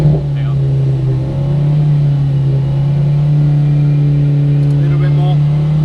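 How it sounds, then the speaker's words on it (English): A 350HP methanol-injected VW Golf engine holds high revs during a trackside noise test, giving a loud, sustained droning tone with steady harmonics. Voices can be heard underneath it. "Just knock it off the absolute top revs a little bit, okay? Because you're too loud."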